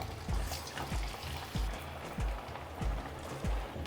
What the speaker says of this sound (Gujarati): બે ચાર મિનિટ એમને તેલમાં જ ફ્રાય થવા દેવાની